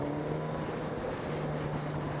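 A Suzuki GSX-S1000 GT motorcycle's inline-four engine, derived from the 2005 GSX-R1000, runs with a steady loud hum and broadband rush mixed with wind noise.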